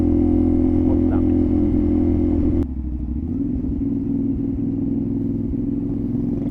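Honda PCX scooter engine running with no silencer fitted, a steady low droning exhaust rumble close by that drops in level partway through and continues idling evenly, with people talking nearby.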